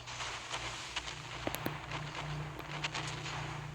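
Naval guns and missiles fire in the Naval Creed video game, scattered sharp booms and cracks popping at irregular intervals over a steady, moderately loud background rumble.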